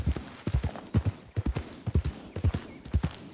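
Horse hooves clip-clop in Red Dead Redemption 2, a steady rhythm of paired hoofbeats close and clear, with a brief bit of talk mixed in.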